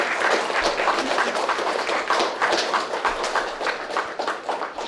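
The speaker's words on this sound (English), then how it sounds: "Round of applause." A crowd claps for a speaker at an event, giving a steady, full round of applause that continues for several seconds without talk.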